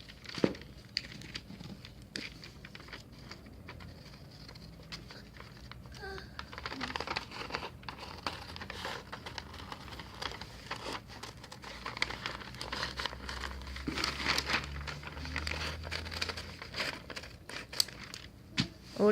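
Paper being cut with scissors along the top layer of a bodice pattern draft, a soft crinkling and snipping that runs steadily and close at low volume with no talking.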